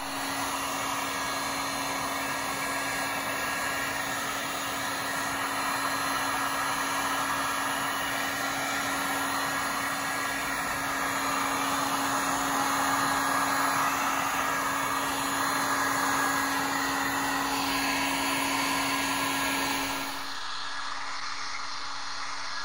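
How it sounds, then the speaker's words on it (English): A heat gun blows steadily over epoxy resin being worked on cornhole boards, a loud, even rushing hiss that holds for about twenty seconds, then cuts off and leaves a quieter background. "your heat gun is going to create a lot of interest and move the color"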